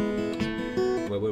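A guitar pull-off on the top string gives a lush, ringing tone, a short run of a few legato notes over sustained strings, played close and alone.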